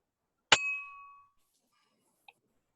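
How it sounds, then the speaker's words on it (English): A dropped bell strikes once with a bright metallic clang, then rings on in a clear decaying tone for under a second, followed by a faint small tap. There is silence around it. "somebody dropped a bell"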